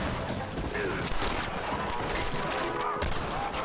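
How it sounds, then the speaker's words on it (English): Gunfire in a Red Dead Redemption shootout, a busy mix of repeated gunshots and reports beneath game voices and talking, moderately loud throughout. "I'm shooting the guns out of their hands"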